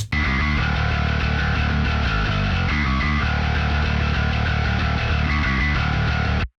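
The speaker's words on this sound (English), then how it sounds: "Let's have a listen to the highly distorted bass guitar." Heavily distorted bass guitar plays a steady, loud riff with a gritty, saturated tone throughout, with no voices.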